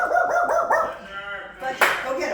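A dog yips and barks a few times in quick bursts, close and fairly loud, mixed with people talking and a sharp clap or bang near the end.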